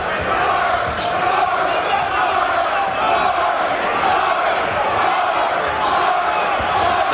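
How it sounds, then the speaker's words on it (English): A heavyweight boxing crowd in an arena chants and roars loudly and continuously, a dense wash of many voices with occasional sharper thuds and peaks cutting through. "The crowd is chanting, George, George, George."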